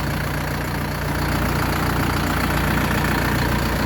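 An Orion JD 504 tractor with a cab idles steadily nearby, a continuous low rumbling chug with no voices over it.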